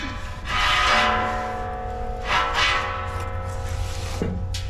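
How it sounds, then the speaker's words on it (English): Chimney sweep rods knocking inside the cowl of a Rayburn cooker-with-boiler flue, giving a few resonant bell-like clangs with ringing tones that fade between strikes, fairly close and with no talking. "I'm just going to keep pushing it up till I hear it knocking in the cowl."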